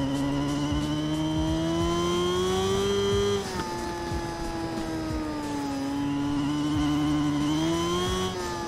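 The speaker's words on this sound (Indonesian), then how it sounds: "Gila nih motor suaranya" Racing motorbike engine in an endurance race at the Nürburgring GP circuit in a video game, a loud continuous high-revving whine with pitch rising and dipping through gear changes, alone without talk.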